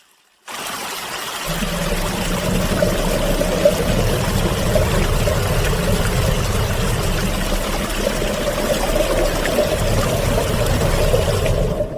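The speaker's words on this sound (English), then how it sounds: "The water streams coming from the peaks of these Nandi Hills gather into a pond and then flow over the edge, continuing as a stream" Water streaming from the peaks of Nandi Hills pours over the edge of a pond, a loud, steady rushing flow that starts abruptly and holds without a break.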